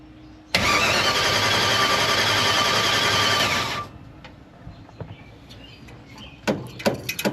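An abandoned small block Chevy engine with a freshly rebuilt carburetor cranks loudly and steadily for about three seconds, then cuts off, leaving faint clicks and a few sharp knocks.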